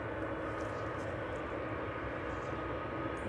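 Ryanair airliner at East Midlands Airport getting under way after pushback on an evening departure, its engines giving a steady, loud broadband roar that holds unchanged throughout with no talk.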